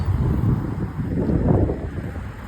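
Strong wind blows across an open outdoor spot, a steady broadband rush buffeting the microphone with low rumbling gusts throughout, no voices heard.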